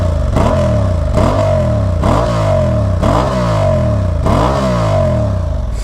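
A 2023 Honda Hornet motorcycle on its stock exhaust revved repeatedly up close, five or six sharp throttle blips rising and falling in a regular rhythm over a loud idle.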